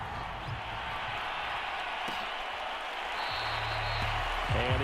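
A home stadium crowd roars in Madden NFL 22, a broad sustained wash of cheering and applause with a brief voice near the end.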